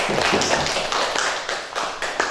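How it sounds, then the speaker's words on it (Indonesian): A small classroom group claps for a presenting student group during a lesson, brisk close-up hand claps with a steady rhythm for a couple of seconds and no voices. "Kita berikan tepuk tangan untuk kelompok 1"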